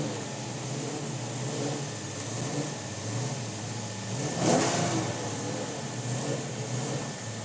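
A 1968 Dodge Charger R/T engine runs steadily just after starting, a mid-pitched rumble with a slight swell partway through, heard outdoors in hot weather.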